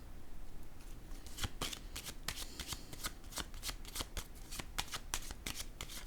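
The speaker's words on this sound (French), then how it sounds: "je vais déposer une autre carte sur elle" Tarot cards are handled and laid down one after another, giving a dense run of crisp, close card flicks and slaps for several seconds with no talk over them.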